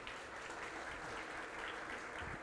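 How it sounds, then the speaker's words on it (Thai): An audience applauds the chairman at the opening ceremony of a national student robotics competition in Thailand, a steady wash of many hands clapping, fairly distant and soft, sustained throughout. "พวกเราปรบมือให้กับท่านประธานอีกครั้งหนึ่งนะครับ"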